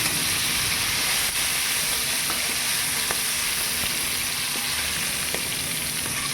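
Dried fish (shutki) frying in a pan makes a loud, continuous sizzle and hiss with a few faint clicks from the pan, steady throughout with no voices.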